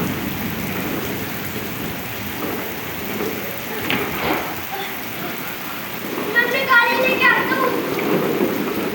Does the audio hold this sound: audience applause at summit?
no